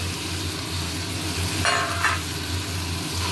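Dried loitta fish being stir-fried in a pan, giving a steady sizzle under a low hum, with a brief louder scrape and crackle of stirring midway and no voices.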